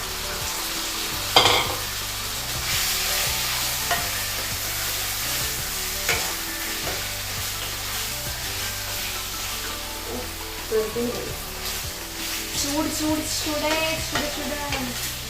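Chicken being stirred and fried in a pan for a Kashmiri chicken curry, with a steady close sizzle and repeated scraping stirs, plus a sharp clatter early on.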